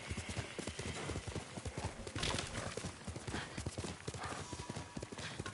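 Horse hooves gallop in Ghost of Tsushima, a rapid, continuous clip-clop of hoofbeats across the whole passage, fairly quiet, with no talk.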